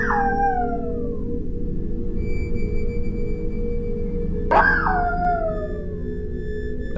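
A dog howls in two long, falling wails a few seconds apart, heard from a replayed recording over steady background noise.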